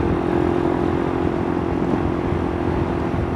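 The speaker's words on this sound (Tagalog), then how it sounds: "kakaawa pakinggan yung motor natin na bumibiri tayo tapos hindi siya pumapasok" A motorcycle engine revving with a worn, slipping clutch lining, a steady loud droning hum held close and continuous, with no voices.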